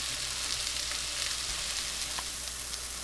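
Mushrooms spread in one layer browning in a pan, giving a loud, continuous close-up sizzle with faint crackles throughout.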